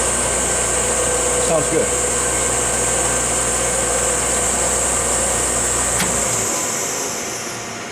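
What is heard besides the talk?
Glebar PG-9BHD centerless form grinder starting up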